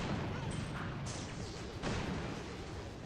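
Distant rocket fire in a video game, a steady rumbling barrage with a couple of sharper bursts, far off and continuous under the general battle din.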